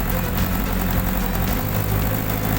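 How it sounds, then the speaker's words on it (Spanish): A Honda CBR 1000 engine swapped into a Polaris RZR idles steadily and loudly, a dense continuous rumble with no break and no voices. "El alternador está mandando bien. Vamos a regularle un poquito el ralentí."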